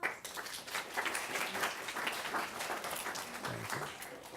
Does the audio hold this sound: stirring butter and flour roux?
no